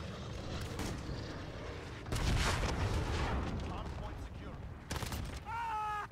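Rocket explosions and gunfire in a Call of Duty Modern Warfare multiplayer match, a dense rumbling blast around the middle with scattered shots, heard under a player's talk.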